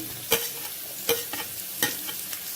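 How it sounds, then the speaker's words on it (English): Chopped onions are stir-fried in a pan for curry leaf chicken, with three sharp spatula scrapes at regular intervals over a soft, steady sizzle. "just stir fry this"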